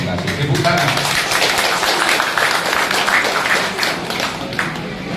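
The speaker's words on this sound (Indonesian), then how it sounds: "Tepuk tangan." Applause at a traditional Batak family ceremony, with hands clapping through the room while voices continue over the sound.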